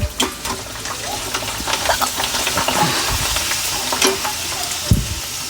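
Ribbon vadiyalu, Telugu fried snacks, sizzle and crackle in hot oil, a loud steady frying hiss with bursts of popping throughout.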